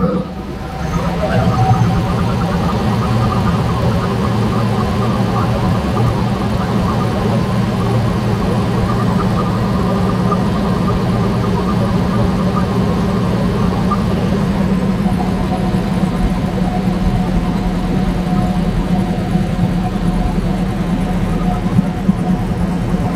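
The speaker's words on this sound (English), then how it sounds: "we'll just fire up the truck" A truck with a suspected head gasket failure sits idling after starting, its engine giving a steady, close mid-to-low hum that stays unchanged for over twenty seconds, with occasional speech from a person underneath.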